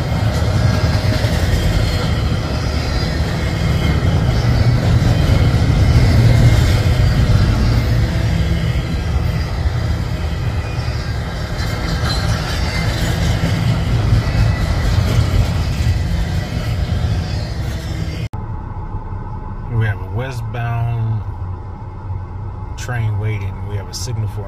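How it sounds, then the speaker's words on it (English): A BNSF eastbound stack train on the Kansas Sub at a private crossing in Edwardsville, Kansas roars past close by, a loud, steady rumble of cars and wheels that cuts off abruptly. Quieter rattling and clicks follow. "This was a 2x0 eastbound stack train on Kansas Sub, Edwardsville, Kansas, at a private crossing."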